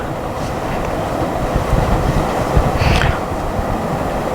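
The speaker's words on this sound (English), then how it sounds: "Here's a train coming under that tunnel underneath the hump into the yard." Freight train rolling through a tunnel beneath the hump of the Selkirk rail yard, a loud, steady rumble of wheels and railcars echoing in the enclosed space, with a brief screech near the end.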